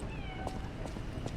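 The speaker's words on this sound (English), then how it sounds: "I hear a kitty." A cat meows in the Lies of P video game at Hotel Krat, a few short, faint mews over a low, steady in-game ambience.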